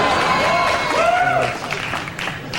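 A studio audience applauds a joke on a comedy show: a steady, moderate wash of clapping with some crowd noise underneath that eases off toward the end.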